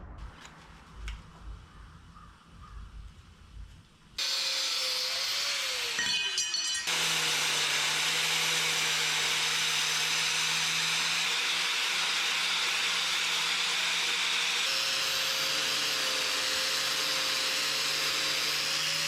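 Angle grinders cleaning welded replacement steel floor panels on a rusted 1959 International B100 truck, a loud continuous high whine with a steady drone after a brief quieter stretch of handling noise.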